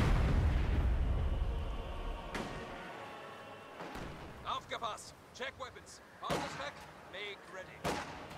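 Mortar rounds land in a strategy video game, several sharp thumping impacts and crackling bursts scattered through the back half after a rumbling start, heard beneath a commentator's voice.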